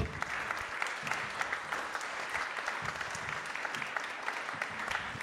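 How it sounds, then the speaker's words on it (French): Audience at a university climate change conference applauds steadily, a fairly quiet, even patter of clapping hands indoors lasting the whole moment. "Je pense qu'on peut à nouveau les applaudir."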